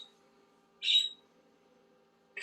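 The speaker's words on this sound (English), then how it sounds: "You're probably going to hear a lot of bird too." Outdoors, a bird gives a short bright call, then falls silent before another call starts at the end, clear and fairly near over a faint steady hum.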